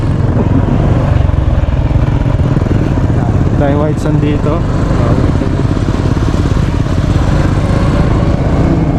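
A motorcycle engine drones loud and close as it struggles through white sand, with people talking over it.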